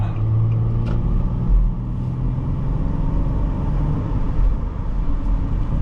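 A 2009 Nissan Quest 3.5 S minivan with an automatic transmission drives along, its engine and road noise forming a steady low rumble heard from inside the cabin, with slight swells as it accelerates.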